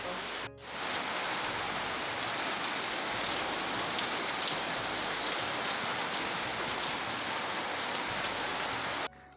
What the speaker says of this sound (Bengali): বাইরে যেহেতু প্রচণ্ড বৃষ্টি হচ্ছে